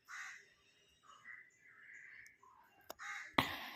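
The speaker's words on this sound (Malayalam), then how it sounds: "ഈ മരത്തിലും കിളികളൊക്കെ വന്നിരിക്കും." Crows caw from a tree, several harsh calls at moderate distance, faint against a quiet outdoor background with no talking.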